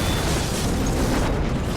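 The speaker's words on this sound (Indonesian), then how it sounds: "Thomas sengaja melemparkan korek ke arah lubang gas, sehingga terjadilah ledakan yang lumayan dahsyat." A gas explosion in an action film, set off by a lighter tossed into a gas hole. It is a loud, sustained roar of dense rumbling noise with no pause.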